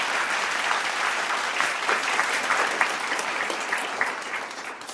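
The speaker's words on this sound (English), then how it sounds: "Let's have a round of applause for all our panelists." Audience applause for a panel of speakers at a health broadcast event, steady dense clapping filling the whole stretch at moderate loudness with no talk over it.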